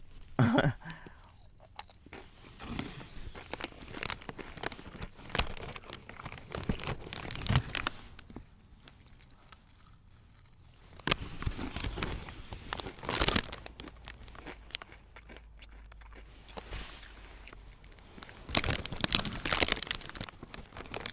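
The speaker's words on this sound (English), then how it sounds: "This is gonna start turning into a mukbang, a Dorito." Doritos tortilla chips crunch loudly and close in repeated bursts of biting and chewing, mixed with the sharp crinkle and rustle of the chip bag being handled.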